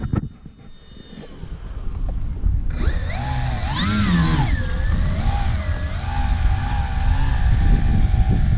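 A Sig Seniorita model airplane's small engine whines in flight, joining after a few seconds of wind noise and then holding loud with its pitch rising and falling as the plane passes and turns.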